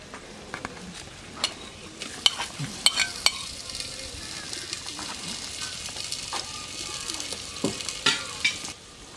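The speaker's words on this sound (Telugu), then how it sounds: "సో అది ఆల్రెడీ వేడైంది కాబట్టి నేను టమాటోస్ కూడా వేస్తున్నాను" Tomatoes tipped onto onions and oil in a hot clay pot for pot chicken, bringing a steady sizzle broken by irregular sharp clatters and stirring sounds, with birds cooing faintly outdoors.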